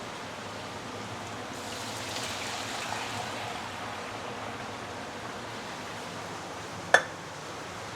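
Hot water poured into a pot of braising Teochew duck with dried herbs, a steady broadband splashing rush that swells for several seconds and then settles, with a sharp clink near the end.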